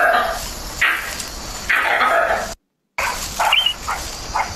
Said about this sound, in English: The barking deer calls, like a scared dog.